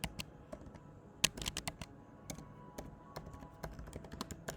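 Kotlin code is typed on a computer keyboard, with a steady run of quick, light key clicks close to the mic and one louder tap partway through, in a quiet room.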